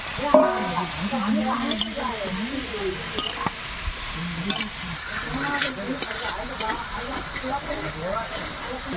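Cabbage, beans and carrots fry and get stirred in a large pot of vegetables cooked for about a hundred people. A steady sizzling hiss runs throughout with scraping stirs, and distant voices murmur underneath.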